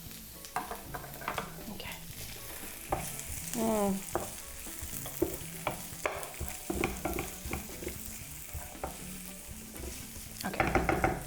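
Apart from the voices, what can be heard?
green bell pepper being sautéed and stirred in a pan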